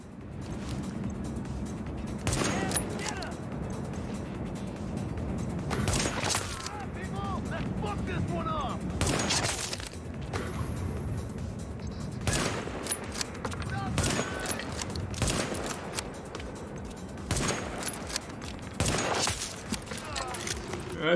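Gunfire in a survival video game: repeated bursts of automatic fire in loud clusters, with short pauses between volleys, over a steady game background.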